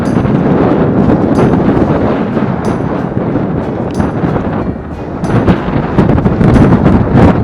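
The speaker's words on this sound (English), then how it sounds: "Windy as hell." Heavy wind at a seaside spot buffets the microphone in a continuous, loud rumbling roar that surges and eases, with no voices.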